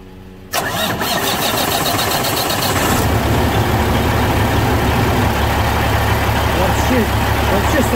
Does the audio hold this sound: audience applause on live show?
no